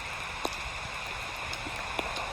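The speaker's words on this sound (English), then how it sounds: "This umbrella is protecting me and the hive from the rain." Rain falls on an umbrella held over a beehive in wet, windy weather. It makes a steady patter with a few sharper drips tapping close by, and no one speaks.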